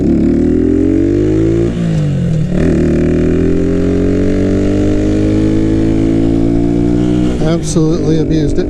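A tuned motorcycle ridden hard, its loud engine climbing steadily through the revs, dipping briefly at gear changes, with a sharp rev burst near the end; a voice speaks briefly over it.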